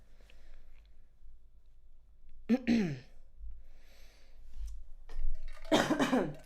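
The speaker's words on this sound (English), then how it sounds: "Sorry, I'm coughing." A couple of sharp, close coughs with breathy pauses between them, separated by quiet stretches.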